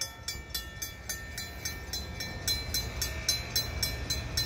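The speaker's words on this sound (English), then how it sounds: "So here comes the train now, just off the bridge." A northbound EXO MR90 electric multiple unit rolls into a station, its wheels producing a quick, regular clickety-clack over the joints at moderate distance with a low rumble underneath.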